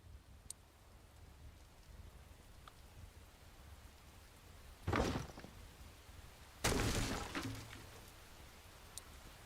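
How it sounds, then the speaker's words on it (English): Rain in the video game Enshrouded: a steady, soft hiss of rainfall runs throughout, broken by two louder, brief bursts of broadband noise near the middle and later in the clip. "It's raining."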